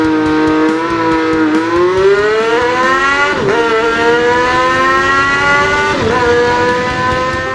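Engine-revving effect for a purple Mega Hot Wheels quad rod toy in a Lego stop-motion scene, a loud continuous whining rev with pitch swells and two sharp dips, steady throughout.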